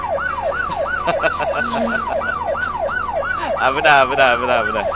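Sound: police car siren in video game My Summer Car

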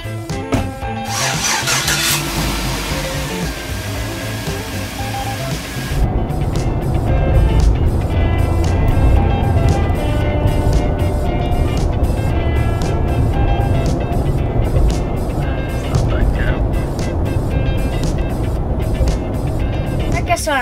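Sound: monster truck engine running

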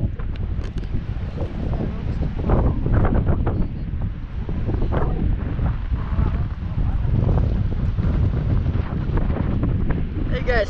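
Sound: wind blowing on a river float through a canyon

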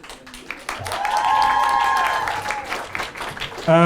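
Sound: audience applause

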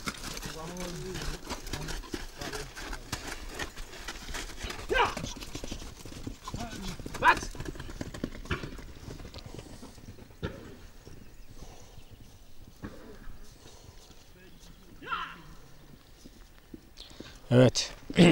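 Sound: black racehorse hooves clip-clopping

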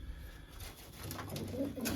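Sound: pigeons cooing

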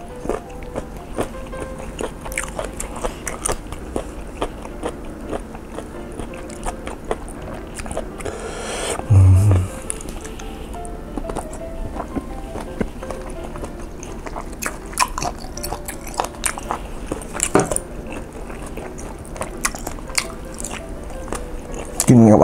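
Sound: crunching while eating crispy baked tofu strips

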